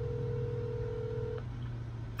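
A telephone dial tone hums steadily, then cuts off partway through, followed by faint keypad tones and a brief click at the end.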